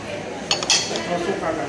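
A plastic plate with a lid being handled, giving a few light clinks and clacks over a couple of seconds beneath a steady background murmur.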